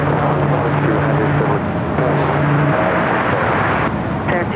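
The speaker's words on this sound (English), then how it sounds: "Next arrival is Delta Airlines Flight 2766, coming up from Portland in A319" A Delta Airlines Airbus A319 arriving at LAX, a loud continuous jet engine roar with a steady drone and a distant whine, while a voice talks over it.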